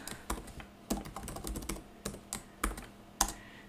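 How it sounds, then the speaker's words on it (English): Keys pressed on a TI-nspire calculator keypad, a short run of quiet, irregular clicks with small gaps between presses. "You just have to write sequence 1 and press enter"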